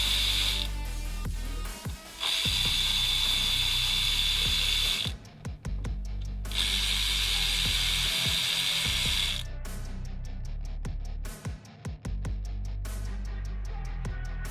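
A ratchet wrench loosens valve cover bolts on a 2013 BMW 328i 2.0L twin-turbo engine, giving close, loud bursts of rapid clicking separated by short pauses.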